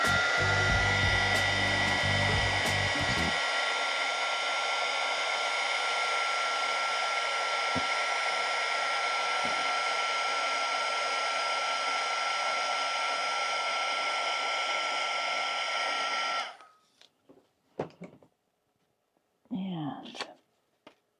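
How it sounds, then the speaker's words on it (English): A heat gun blows a loud, steady roaring hiss at close range over painted paper for about sixteen seconds, then cuts out, leaving brief rustles and a short burst of talking. "I'm gonna hit this with a heat gun and I want to glue it in."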